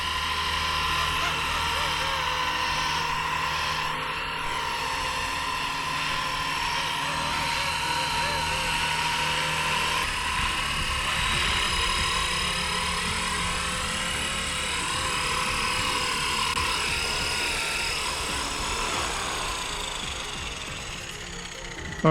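A Blade 230S Smart RC helicopter flying in to land outdoors makes a loud, continuous high-pitched rotor and motor whine that holds steady for over twenty seconds, with faint talk underneath.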